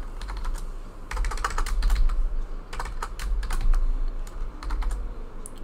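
Quick, uneven clatter of a computer keyboard being typed on up close, with keystrokes arriving in clusters and short pauses, with no talking.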